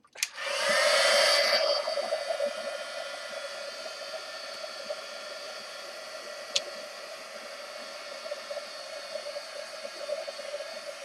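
A hair dryer drying paint switches on and blows steadily with a loud whooshing hum, settling into a constant drone with one brief click midway.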